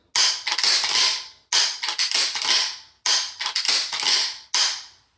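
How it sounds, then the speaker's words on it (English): A Winchester SXP Defender pump shotgun is dry fired, giving four sharp metallic bursts of clicking and action noise at even intervals, loud and close with no voices. "we'll dry fire it probably 3 or 4 times"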